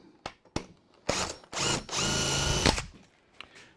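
A power drill drives screws into a wooden drawer: a few short taps, then several longer whirring runs close by, with no talk.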